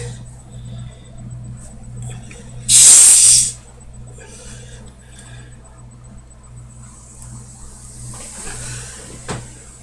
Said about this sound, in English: Let's go ahead and crack this lid.